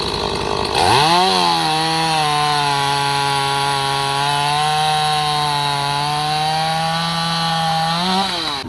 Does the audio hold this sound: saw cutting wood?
yes